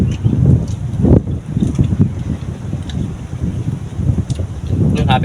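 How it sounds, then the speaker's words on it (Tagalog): Gusting wind in a mangrove buffets the microphone in loud, uneven rushes, with leaves rustling and a voice speaking briefly. "Mahangin."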